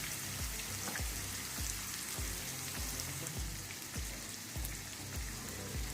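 Chopped onion sautéing in a pan over very low heat for Jamaican-style fried fish, giving a steady soft crackle and sizzle with regular faint pops, continuous and close with no talking.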